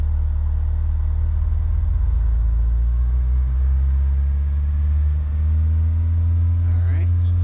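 Cessna 172 piston engine at full throttle in Microsoft Flight Simulator X, a loud, steady low droning rumble that holds through the clip.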